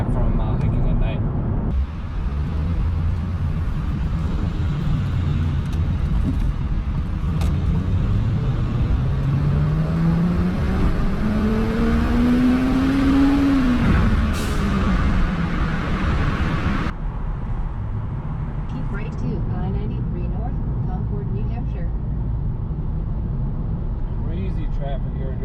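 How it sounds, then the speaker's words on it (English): Steady road traffic with cars passing one after another, including a rising-and-falling pass in the middle and a continuous low rumble throughout. "Traffic here during a pandemic."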